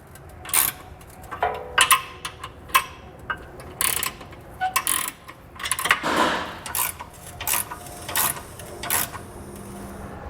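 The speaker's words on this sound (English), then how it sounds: "grab a 3/4 or 19 millimeter wrench. We'll use 2 of them here, and we'll simply just tighten down all the hardware" Hitch bolts on a 2014 Jeep Wrangler are tightened with two 19 mm wrenches, giving close, irregular metallic clicks and ratcheting ticks in short bursts against a quiet background.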